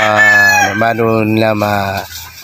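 A rooster crows loudly and close, one long harmonic call stretched over about two seconds and tailing off, with no voices around it.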